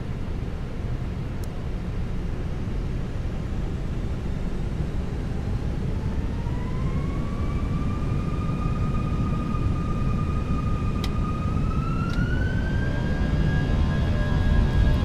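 Twin jet engines of an Airbus A320 spool up to takeoff thrust in Microsoft Flight Simulator 2024: a steady loud roar with a rising whine that climbs and then holds for the length of the run.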